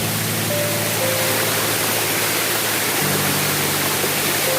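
Water pours down a hillside waterfall on the Raikal trek near Warangal, a dense, even roar of rushing water at close range, with faint tonal hums under it and no one talking.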